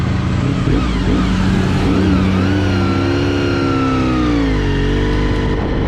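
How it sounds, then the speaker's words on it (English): A big truck rumbles past on the road close by, its deep engine drone and rising, then falling gear whine holding loud and steady throughout with no talk over it. "Nice big old truck about to come through."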